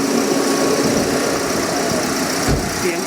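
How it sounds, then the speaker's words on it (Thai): A car engine idles with a steady, even low rumble and faint vibration, close by and uninterrupted. "เสียงเครื่องยนต์เนี่ยควรจะให้เป็นเสียงที่แบบ คลื่นเดียวกันหมด"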